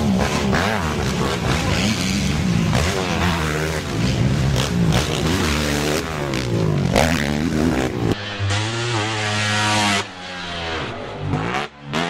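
A dirt bike engine accelerates hard after landing a jump, a loud, close, buzzing roar that climbs and shifts in pitch through repeated rises, then a sudden drop in level to a rougher, lower drone near the end.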